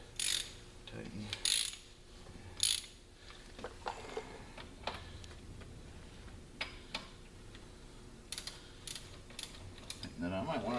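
Ratchet wrench fitted with a 3/8 extension tightening a bolt during truck reassembly, giving scattered short clicking bursts and ticks, fairly close, with quiet gaps between them.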